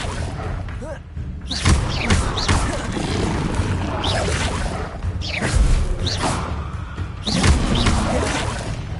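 Levitation spells in Hogwarts Legacy land as repeated heavy thuds and swishing whooshes, about three strong bursts spaced a few seconds apart over a busy, loud game soundscape.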